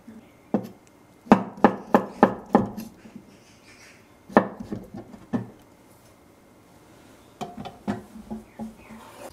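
Knife slices vegetables thinly on a wooden board while vegan bibimbap is prepared, sounding as a quick run of crisp taps, then scattered cuts with pauses, close and fairly clear.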